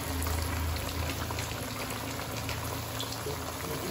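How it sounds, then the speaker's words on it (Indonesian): Water boiling in a pot while fried fish nuggets and bala-bala fritters are reheated, a steady close bubbling hiss that runs unbroken throughout with no talking. "Nah, ini sedang mendidih."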